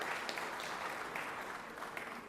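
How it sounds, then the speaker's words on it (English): Audience applause from a civic gathering honoring a longtime Jackson city council member, a dense patter of many hands clapping steadily at moderate volume, with no speech over it. "Let's give him a round of applause there."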